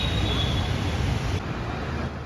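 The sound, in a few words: metro train at Lower Oshiwara Metro Station, Andheri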